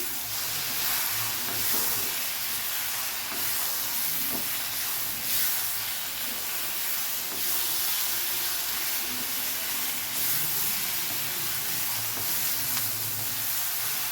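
Curry leaves fry in a pan of tomato chutney, giving a steady, close sizzling hiss that runs unbroken with no talking.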